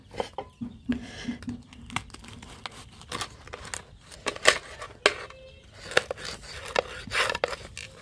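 Egg pitha cut into pieces on a plate makes scattered scrapes, taps and crinkly knife-on-plate clicks, close and fairly quiet, irregular throughout with a few sharper knocks.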